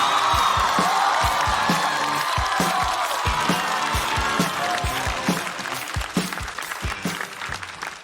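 Audience applause for a comedian walking on at a stand-up comedy show, a dense, steady wall of clapping with a few whoops and cheers, loud throughout and easing slightly toward the end.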